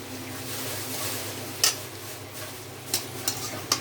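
Spinach greens go into hot oil in a pan for a Bengali fried-greens dish and sizzle in a steady, close crackling hiss. A few sharp clinks of a utensil against the pan break through it.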